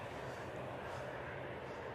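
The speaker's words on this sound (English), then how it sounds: "we've got another Dreamliner coming out as well" Boeing Dreamliner airliner taking off at Manchester Airport, a steady broadband jet engine roar heard from a distance, continuous and moderately loud through the whole moment.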